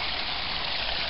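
Dead End Creek rushing steadily, a dense close wash of flowing water with no breaks, loud and uniform.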